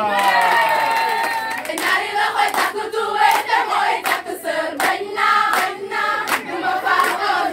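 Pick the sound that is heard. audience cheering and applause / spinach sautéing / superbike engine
audience cheering and applause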